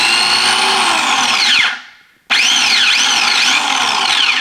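An electric grinder whirs loudly, grinding herbs for a crust on a whole leg of lamb; its high motor whine cuts out briefly, then starts again with wavering pitch as the blade works through the herbs.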